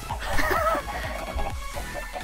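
Minecraft chickens cluck in a few soft, short calls, partly buried under background game sound and a steady low drone.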